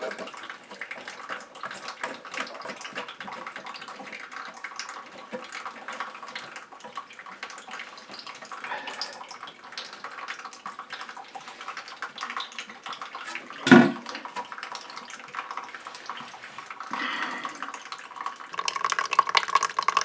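Water runs into a toilet tank refilling after a Fluidmaster fill valve replacement, a continuous trickling rush with one sharp clunk partway through, no talk.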